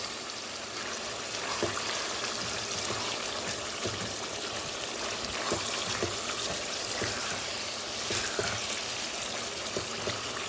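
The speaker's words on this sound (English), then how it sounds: "I put a cup of boiling water" Steady rushing pour of boiling water while cooking rice pilaf, close and continuous, with faint clinks and splashes scattered throughout and no voices.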